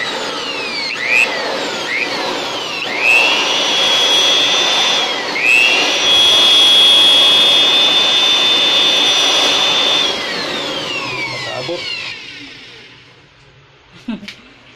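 A loud air blower whines steadily for several seconds while clearing an LPG line, revving up and down a few times before winding down to quiet, with a brief knock at the end.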